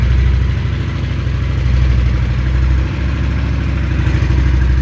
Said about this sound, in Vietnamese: Nó bô zin mà nghe nó rất là uy lực luôn.